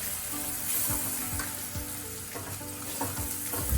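Grated potato sizzles and fries steadily in a pan with turmeric, chilli and salt, a continuous close crackle with occasional stirring scrapes and no talk.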